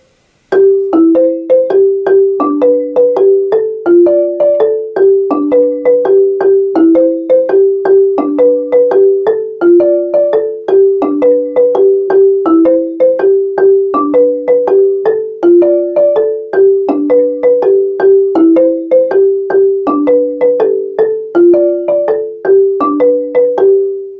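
Marimba playing a steady, repeating second soprano part, a mallet pattern of bright wooden notes, continuous and close, with no voices.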